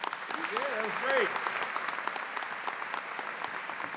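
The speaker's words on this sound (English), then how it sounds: "Give him a round of applause." Applause from a university commencement crowd for a speaker, a steady patter of many hands filling the hall, with a voice speaking briefly over it near the start.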